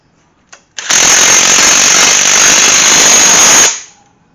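A power tool drives a bolt into a Gremlin V-8 engine being prepped for installation: one loud, steady burst of rattling, hammering whir lasting about three seconds, preceded by a brief tap, with no talk.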